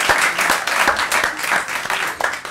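A comedy show audience in Kenya claps for a guest named Ike, lively applause with distinct hand claps standing out as it rises and dips in waves.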